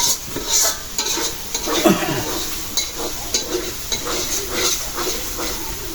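Goat meat sizzles and fries in a pot over a wood-fired stove, with a spoon scraping and stirring through it in repeated strokes and occasional clanks against the metal, close up and steady.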